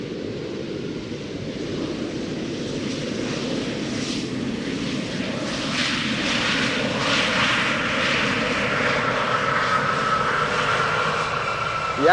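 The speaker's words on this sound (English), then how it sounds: "this is the Adler German Airways special livery flying for KLM. If you're still following, arriving from Leeds." Adler German Airways jet airliner in special livery, flying for KLM and arriving at Amsterdam Schiphol, roars steadily overhead, loud and continuous, growing slightly louder toward the end with a broad rushing engine noise.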